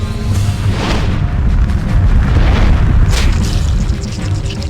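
A deep, rumbling fire-spell explosion in the game Septerra Core, a broad booming roar that swells and holds for several seconds with a crackling edge.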